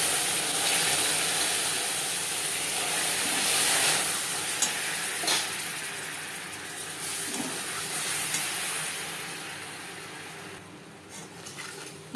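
A small splash of water hitting hot caramel over a low gas flame, kicking up a steady, broad sizzle and steamy hiss with a few faint clinks, continuous and close throughout.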